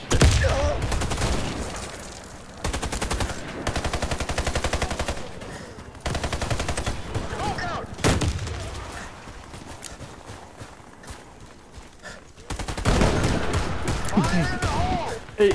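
Sustained machine gun fire from a firing team in the video game Warface, long rapid bursts broken by short pauses, loud and close, with a voice talking between volleys.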